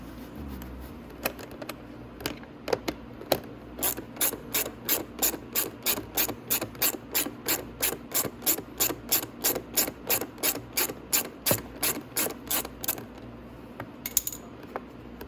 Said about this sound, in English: There's a 10mm nut on the back of that, so we're going to take that off.